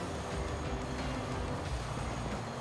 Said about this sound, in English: Train going there, train going here, train going there.